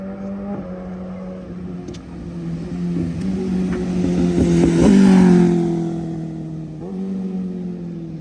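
A 2020 BMW S1000RR sport motorcycle engine idles and then revs up in a rising and falling surge, loud and close, before settling back to a steady idle.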